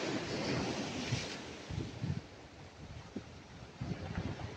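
Strong sea waves surge along a coastline, a loud, continuous wash of surf with wind buffeting the microphone and occasional heavier swells rising through the roar.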